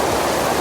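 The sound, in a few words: waterfall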